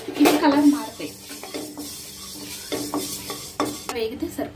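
A spoon stirs and scrapes pickle ingredients for tokkudu pachadi around a hot pan, with a soft steady sizzle and repeated metallic scrapes close by.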